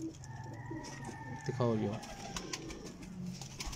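Domestic slate and blue pigeons coo close by, one clear rolling coo in the middle against a soft background, while people talk around it.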